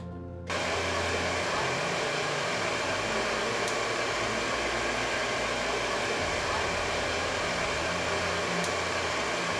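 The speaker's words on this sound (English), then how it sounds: "Okay, and so we're going to turn on the vacuum." A vacuum forming machine's vacuum pump switches on abruptly after a brief quiet moment, then roars in a loud, steady whooshing drone that continues to the end.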